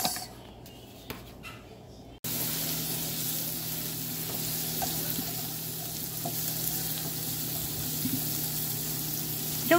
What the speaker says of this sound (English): I'm gonna add in my onions